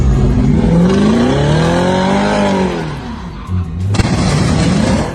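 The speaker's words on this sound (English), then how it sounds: "In the next moment, it crashes head-on with an approaching vehicle." A car skids across the center line of a slick road and crashes head-on into an oncoming vehicle: a loud engine roar with a rising, swooping whine, then a sudden sharp impact about four seconds in, with noisy wreckage after it.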